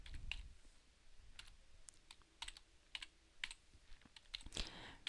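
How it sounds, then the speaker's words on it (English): Typing on a computer keyboard, a scattered run of crisp key clicks at an irregular pace, close and quiet, with no talking. "So I'm just going to type my name"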